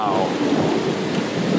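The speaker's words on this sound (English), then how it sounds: "quite the storm." A heavy late-summer thunderstorm in Windsor, Ontario: a loud, dense wash of rain pours steadily while thunder rumbles underneath, filling the whole stretch with no voices.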